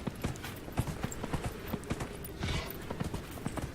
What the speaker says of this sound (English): The gallop feels like it's like you're forward and back and forward.